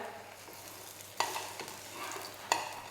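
A cabbage pancake fries in a lightly oiled pan, giving a steady low sizzle. Two sharp scraping clicks from a spatula against the pan stand out.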